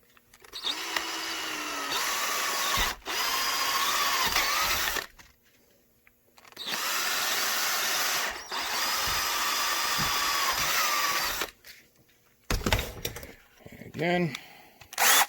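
A power drill with a 7/32 bit bores holes for an appendix holster rig with side carrier. There are several loud whirring bursts of a few seconds each, separated by pauses and handling noises.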